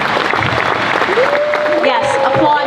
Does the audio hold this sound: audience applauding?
yes